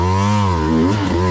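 A Beta 200 dirt bike engine revving close by on a rough trail climb, a loud buzzing two-stroke tone that rises and dips as the throttle changes, with no voices over it.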